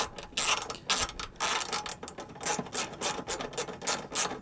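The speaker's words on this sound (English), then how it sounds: "tighten your mounting bolts up" A ratchet tightens the mounting bolts on an HID headlight ballast bracket in a car, making fast, close, repeated clicking pawl strokes in short bursts.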